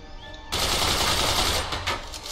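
Rapid gunfire from shooting down targets in the video game Forts, a dense burst of loud, crackling shots starting abruptly after half a second and continuing to the end.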